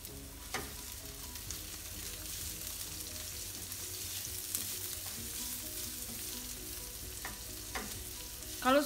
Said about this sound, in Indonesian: Tumis bawang putih dan bawang merah.